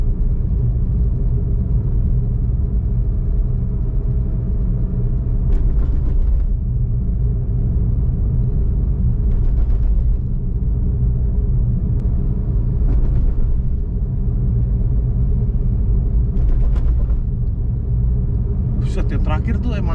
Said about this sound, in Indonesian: mengukur seberapa berisik ketika ngelewatin jalanan speed breaker